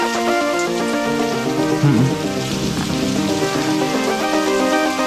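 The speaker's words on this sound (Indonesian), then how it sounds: "Ya, yang hujan. Iya hujan." Steady rain falls outdoors, a dense, continuous hiss and patter that holds at an even, loud level from start to finish, with no one talking.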